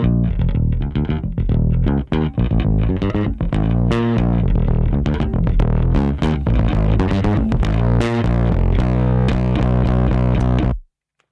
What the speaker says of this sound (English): So we're getting a lot of that distortion